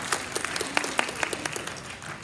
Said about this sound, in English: That deserves a clap, I think.